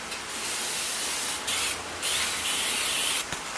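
Cooking spray hissing onto two new muffin tins in a kitchen, several close, steady bursts with brief pauses between them, no talking.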